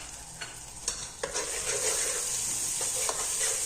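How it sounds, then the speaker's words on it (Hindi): Chicken pieces coated in spices fry and sizzle in a pot for biryani, a steady hiss broken by several sharp scrapes and clacks of a spoon stirring, close and fairly loud, with no talking. "तो अब हम इनको अच्छी तरह भूनेंगे।"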